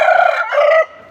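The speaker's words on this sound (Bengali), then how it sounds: "এই যে আমার নিউ মোরগ" A single loud, close crow from a game-fighting rooster rings out alone, a strong drawn-out call lasting about a second.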